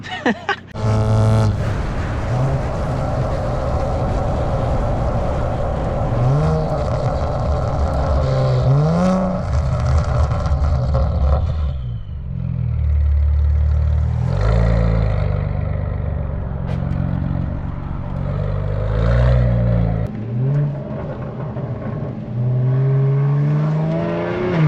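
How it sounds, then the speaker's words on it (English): A Kia Stinger with a straight-piped exhaust revs repeatedly. Loud, close engine roars climb and fall in pitch between burbling idle stretches. "This car itself just sounds so perfect,"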